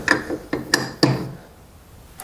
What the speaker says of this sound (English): the socket you need to remove that bolt or nut is 22 millimeters